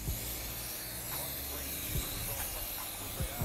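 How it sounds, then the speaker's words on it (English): A continuous hissing spray of degreaser onto a bicycle runs through, broken by a few short bursts of spraying, close up with no talking. "get some of my Mint degreaser and spray it around."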